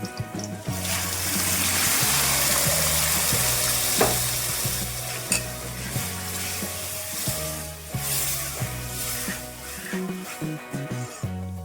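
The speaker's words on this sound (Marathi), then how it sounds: "आता आपण ही भाजी टाकूया" Chakvat greens crackle and sizzle loudly in a hot pan of oil, a dense continuous frying hiss with occasional stirring clatters over roughly twelve seconds.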